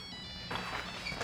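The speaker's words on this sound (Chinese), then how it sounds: "Nokia 手机铃声啊。" A Nokia mobile phone ringtone plays as a brief, bright electronic melody of a few clear tones, moderately quiet and heard on its own.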